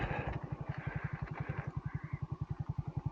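A Honda CG125 motorcycle chugs along a cold rural road, its small single-cylinder engine thumping in a steady, even pulse heard close up from the bike, with wind noise over it.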